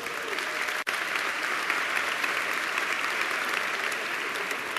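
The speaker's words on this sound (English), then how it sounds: "Give big applause." Sustained audience applause fills a large hall at an MBA graduation ceremony, a dense steady wash of clapping with a single brief dropout near the start.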